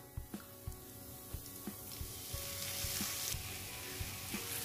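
Mixed vegetables for cutlets fry on a low flame with a soft sizzle. The sizzle swells over a few seconds, broken by sharp utensil clicks and taps near the start, and no one talks.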